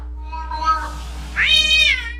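A cat meows twice, a short mew followed by a longer rising, drawn-out meow, close and clear over a steady low hum.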